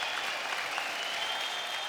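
A studio audience claps steadily through a short, even burst of applause after a singing performance on a televised talent show.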